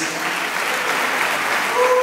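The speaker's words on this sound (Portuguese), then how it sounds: "Aplauda Jesus." Congregation applauding during a church testimony service, a continuous close wash of clapping hands, steady and fairly loud throughout with a faint tone near the end.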